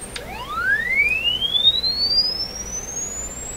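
A sweeping tone plays through a vintage Airline tabletop radio, one steady pure pitch gliding smoothly upward over several seconds, clear and moderately loud with faint background hiss.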